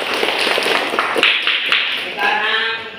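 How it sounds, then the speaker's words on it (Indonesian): Classmates clap for a student named Melisa in a classroom, producing a short patter of hand claps that fades after a couple of seconds while voices murmur underneath. "Oke, tepuk tangan untuk Melisa."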